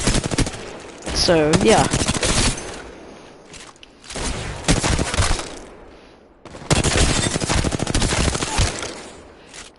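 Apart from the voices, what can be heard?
gunfire from R-301 rifle in video game Apex Legends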